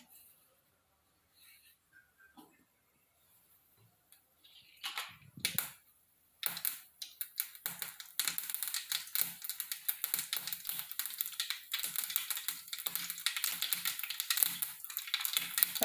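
Mustard seeds splutter in hot coconut oil while a South Indian coconut milk rasam is cooked: quiet at first, then dense rapid crackling and popping builds and keeps going, close, with no talk.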